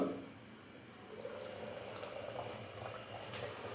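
Mutton handi simmers in a covered pot on medium heat, giving a soft, steady bubbling and hiss that stays faint and continuous throughout.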